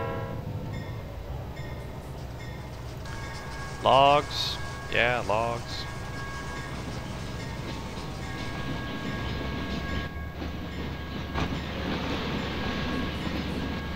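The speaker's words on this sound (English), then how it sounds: "This train is going to go pick up some more lumber." A Trainz video game train heading out to pick up lumber rumbles along steadily, sounding two loud horn blasts close together partway through, while someone talks briefly over it.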